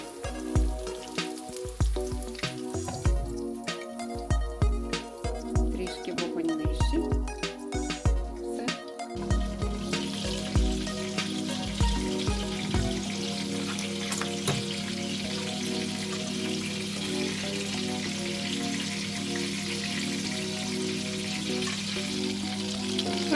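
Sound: meat patties frying in a covered pan

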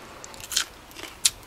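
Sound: biting into a crunchy roselle seed pod

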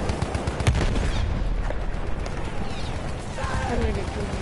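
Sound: medic gun gunfire in Battlefield 1 video game

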